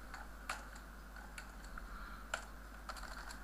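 Quiet, sparse keystrokes on a computer keyboard while entering ActionScript code, single taps and short bursts spread out over a low steady hum, no talking.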